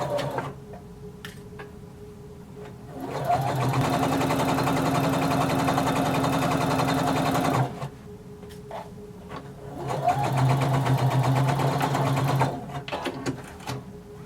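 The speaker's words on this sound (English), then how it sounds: "you're going to start sewing from the bottom of your pant leg up towards the crotch" A domestic sewing machine stitches the inner-leg seam of a jumpsuit pant leg, running from hem toward crotch in two steady, loud whirring bursts separated by a brief quieter pause.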